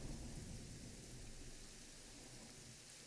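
Steady rain falls in the video game Planet Zoo, a soft, continuous hiss of rainfall with low rumbling underneath, faint and unbroken throughout.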